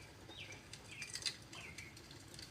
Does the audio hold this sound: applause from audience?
no